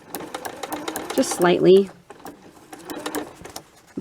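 A sewing machine stitches through a paper envelope made from book pages, its rapid mechanical clatter running in short bursts between pauses while someone talks over it briefly.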